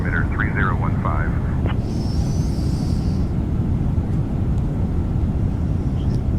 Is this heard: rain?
no